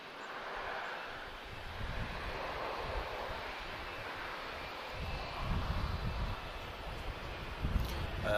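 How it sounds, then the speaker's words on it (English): An Air France airliner roars with loud reverse thrust after landing at Lisbon Airport, a steady broad rumble and rushing wind noise filling the whole stretch, swelling slightly toward the end, heard from a distance outdoors. "That's it, Air France, that's what we want. Nice loud reverse."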